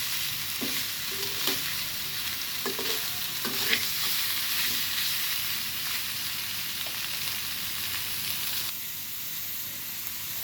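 Soya nuggets fry in a pan with a pinch of sugar while being stirred, giving a steady close sizzle broken by scraping clicks and knocks of the spoon, with no voices.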